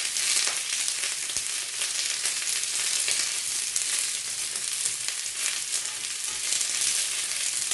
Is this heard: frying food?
yes